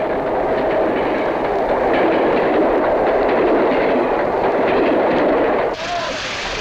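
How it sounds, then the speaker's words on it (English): A train rushes past in a steady, loud roar with a rumbling clatter that carries through to the end, where it cuts off abruptly. "The rush and roar of a passing train filled spectators with awe"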